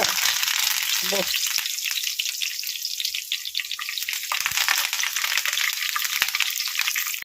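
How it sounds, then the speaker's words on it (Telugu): Curry leaves dropped into hot tempering oil after the stove is switched off crackle and spit in a dense, close sizzle with sharp pops, continuous and fairly loud throughout. "స్టవ్ ఆపేసిన తర్వాత ఫైనల్లో మాత్రమే కరివేపాకు అయితే వేస్తున్నా చిట్టపట్లాడిపోతుంది అనమాట"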